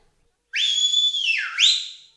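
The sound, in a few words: person whistling to call a horse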